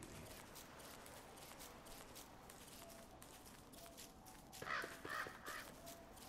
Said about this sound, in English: That's crow. Hear those all over the place.